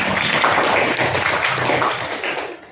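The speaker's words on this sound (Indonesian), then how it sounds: "Tepuk tangan untuk Manda." Classroom applause for a student, a dense burst of many hands clapping together, loud and steady for about two and a half seconds before tapering off.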